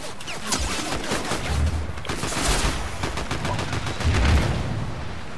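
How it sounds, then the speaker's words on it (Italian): Rapid bursts of gunfire in the video game Fortnite crack repeatedly throughout, with dense volleys and some heavier low thumps, loud and close, without speech over them. "Mi sparano. Non so da dove."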